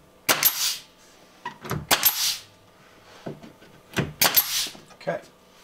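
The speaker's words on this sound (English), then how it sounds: "Now let's take our fancy nail gun and fancy nail it." Pneumatic nail gun driving nails into arched door trim inside a converted school bus, four or five sharp snapping bursts in two quick clusters, close and fairly loud, with brief faint voices between shots.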